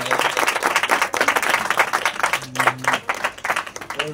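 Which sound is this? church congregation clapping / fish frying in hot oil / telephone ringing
church congregation clapping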